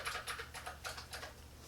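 Fingers type on a YCCTEAM Luom NG300 mechanical keyboard with metal keys, producing quick clusters of crisp, clicky keystrokes heard up close and fairly soft, with no talking.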